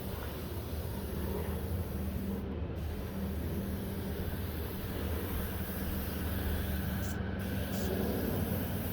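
Steady hiss of Messmer's UV Plus stain being sprayed onto a Brazilian Cumaru wood deck, a continuous broadband wash held at an even level throughout with no pauses.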